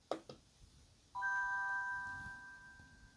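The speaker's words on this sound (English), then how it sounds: "all of a sudden it just made that little chime noise" A Google Pixel Watch or Fitbit Sense 2 smartwatch gives a single clear chime notification, a bright sustained tone that fades slowly, preceded by a couple of faint taps.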